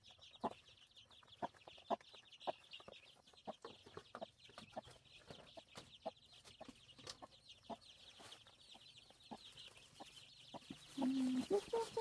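Chickens clucking in a farmyard, a steady run of short, sharp clucks spread across the scene at moderate distance, with a louder burst of squawking near the end.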